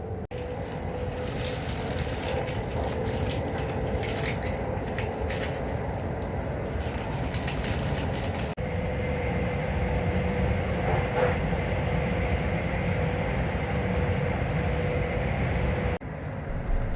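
An NS ICNG intercity train running at about 100 mph through the Dutch countryside, heard from inside as a steady loud rumbling roar with a sudden shift in tone partway through and a brief faint whine.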